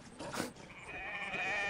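Sheep bleating in the online RPG game The Wolf, a faint, brief wavering bleat with a tonal, drawn-out quality, fairly quiet against a low game background.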